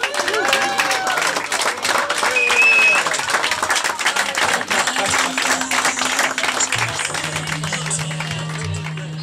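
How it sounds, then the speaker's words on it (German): A crowd applauds first place at a sailing cup awards ceremony, steady loud clapping throughout with some voices and cheering mixed in. "Beifall für den ersten Platz."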